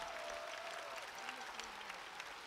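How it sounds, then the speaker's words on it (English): Fans applauding at an Iowa City celebration welcoming the Hawkeyes home after their season, a faint distant spread of clapping from a large crowd with a few voices faintly mixed in. "let's clap for that."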